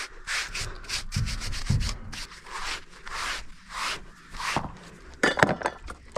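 A brush rubs rhythmically over a very dirty pony's coat during grooming, close and clear, with quick repeated strokes in bursts and brief pauses between them; no voices are heard.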